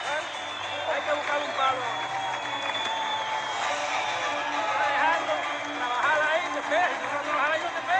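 A boxing arena crowd roars and whistles during a bout featuring an Olympic champion, a loud, sustained crowd swell with rising whistles and shouts while a commentator talks over it.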